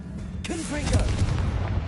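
A short voice cast is followed by the Confringo blasting spell in Hogwarts Legacy, a close, punchy explosion with a rumbling tail.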